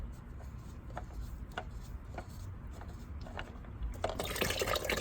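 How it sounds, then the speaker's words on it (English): Oil drains from the filter of a Ford Fusion during an oil change, a soft, steady trickle and occasional drips close by, growing into a louder rush of liquid at the end. "Just let it drain because a lot of this oil is just what's in the oil filter."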